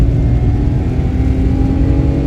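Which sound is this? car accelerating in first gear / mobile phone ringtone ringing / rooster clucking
car accelerating in first gear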